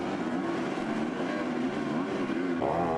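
Motocross motorcycles race at the MXGP of Flanders with a steady buzzing engine drone throughout, then one bike's revs climb sharply near the end.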